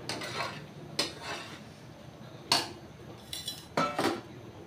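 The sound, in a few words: pot and plate clinking while taking mango morabba off the stove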